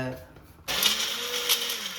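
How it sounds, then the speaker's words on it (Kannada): A kitchen mixer grinder starts abruptly and runs loud and steady as a continuous whirring grind, grinding ingredients for a potato and green pea pulao. "ಈಗ ಮಿಕ್ಸಿ ರುಬ್ತಾ ಇದ್ದಾರೆ"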